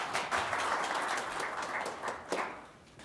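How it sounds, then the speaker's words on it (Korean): Audience at a Korean carbon-neutrality tech forum applauds a research institute director as he is introduced, steady dense clapping throughout with a brief louder swell near the end, no talking. "우리 소장님께 큰 박수 한번 부탁드리겠습니다."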